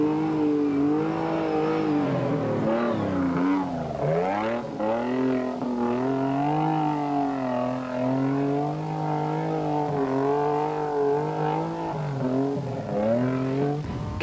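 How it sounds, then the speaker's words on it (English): A rear-engine rally raid buggy, seen in the 1994 Tunisia Rally Raid, holds a loud, continuous, buzzing engine note that wavers in pitch as it bounces on the rev limiter, heard close and alone. "Rear-engine car, and listen to it on the rev limiter"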